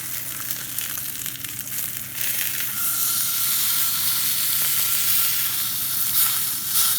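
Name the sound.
Morrison's sirloin steak sizzling after being turned over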